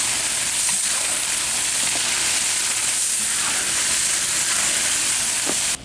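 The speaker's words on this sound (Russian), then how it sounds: "И высыпаем наш лук. И все это перемешиваем и поджариваем." Chopped onions for Uzbek plov sizzle in hot oil with meat in a pan, a steady bright hiss filling the whole stretch with faint stirring clicks underneath.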